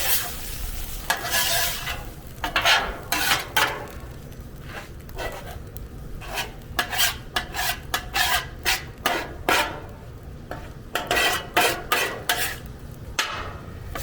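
Chili meat is pushed, flipped and scraped across a Blackstone flat-top griddle with a metal spatula: repeated rasping scrapes in uneven bursts over a steady low sizzle, close and fairly loud, with no talking.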